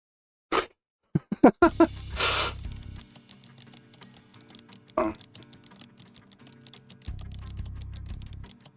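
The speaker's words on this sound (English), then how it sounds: "Sounds of fingers tapping keyboard and a pen." Fingers tap on a computer keyboard in a video game, starting with a few loud separate strikes and then running into quick, steady typing that keeps going at a soft level, with no talking.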